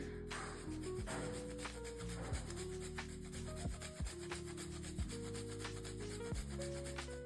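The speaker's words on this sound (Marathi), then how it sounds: "थोडंसं मी इथे जायफळ किसून घेते याने छान असा फ्लेवर येईल" Whole nutmeg is grated for a sweet dish, with repeated short rubbing strokes against the grater in a steady rhythm, close and fairly quiet, over faint background music.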